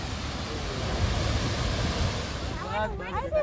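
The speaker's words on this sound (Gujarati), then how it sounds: "આ સરસ મજાનો ધોધ પડી રહ્યો છે." The Jamjir waterfall on the Singodo river in Gir forest gives a steady, loud rushing roar throughout, with a voice briefly speaking near the end.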